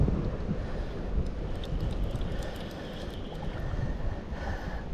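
Steady wind buffeting the microphone beside a trout creek at Clear Shade Creek in Pennsylvania, a constant low roar with rushing water blended underneath and no voices.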